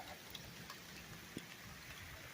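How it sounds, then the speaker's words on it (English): Steady outdoor rain falling around a grape vine trellis, an even wash of patter with a few sharper drops, moderately faint and continuous. "Anyways, it's really raining."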